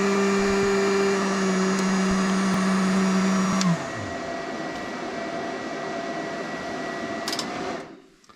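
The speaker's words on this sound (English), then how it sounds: "Heat gun on low." A heat gun on its low setting, powered by a GrenerPower 12V LiFePO4 power station, blows a steady whirring roar with a tonal hum that drops in pitch partway through, then cuts off at the end.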